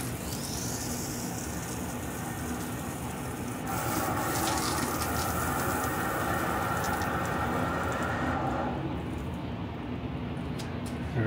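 Water rushes steadily through a pipe feeding an industrial swamp cooler at a shop after the shut-off valve is opened, a loud continuous hiss that brightens and swells partway through before easing again.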